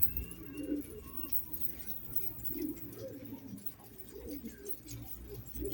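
Pigeons coo in low, repeated murmurs while being fed, a steady throaty burbling close by, with someone talking intermittently over them.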